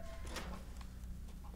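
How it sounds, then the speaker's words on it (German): Chicken clucking in Resident Evil Village, a few short soft clucks over steady low game ambience with no talking. "Hallo Chicken!"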